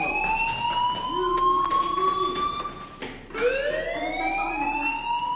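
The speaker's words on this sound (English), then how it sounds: "Hey, do you hear that fire alarm?" A school fire alarm rings out loud and continuous in the game Life is Strange, a high wailing electronic tone that sweeps upward, dips briefly near the middle, then climbs again and keeps sounding with no talking.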